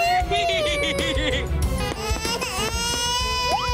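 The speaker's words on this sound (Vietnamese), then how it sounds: "Tiếng khóc kìa." A cartoon child's crying wails loudly over busy animated music and sound effects, sobbing in rising and falling bursts for a few seconds.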